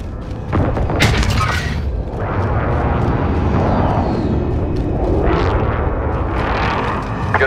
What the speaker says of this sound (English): Target marked. Commence airstrike.